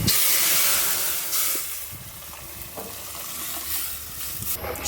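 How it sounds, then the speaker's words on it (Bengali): Whole cumin seeds sizzling in hot oil with onion and dried chilli as tempering for black gram dal, a loud steamy hiss that surges at first, then settles, with faint stirring knocks and scrapes. "মাসকালাই ডালে আমরা জিরা ফোড়ন খাই"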